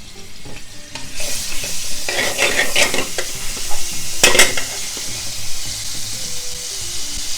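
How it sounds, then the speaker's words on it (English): Garlic ginger paste sizzles in hot oil in a pan, with a steady frying hiss and bursts of scraping and clinking as it is stirred, the crackle loudest in the middle before settling. "So you've got your pan, a little bit of oil, teaspoon of garlic ginger"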